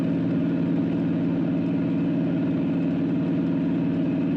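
Toyota 1HZ turbo diesel engine in a 105 Series droning steadily at cruising speed under light added throttle, a continuous low rumble with a faint rhythmic pulse and no voices.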